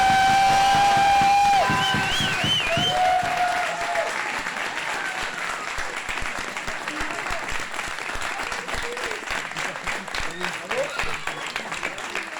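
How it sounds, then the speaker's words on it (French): Applause from an audience after a comedy sketch, loud and dense at the start, then thinning into scattered clapping while a voice talks over it. "On applaudit encore, merci beaucoup"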